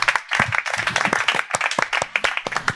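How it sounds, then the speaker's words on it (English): A small audience gives a round of applause, the individual claps distinct and close, uneven bursts with brief gaps, no talking over it. "So please, another round of applause, everybody."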